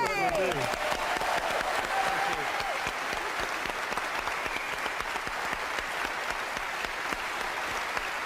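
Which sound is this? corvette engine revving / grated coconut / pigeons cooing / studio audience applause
studio audience applause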